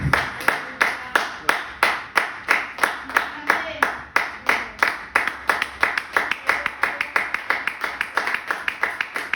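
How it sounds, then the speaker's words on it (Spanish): A church congregation claps in a steady, brisk rhythm, loud and close, with the beats running unbroken for several seconds and a speaking voice faintly underneath. "Dale fuerte el aplauso al Señor."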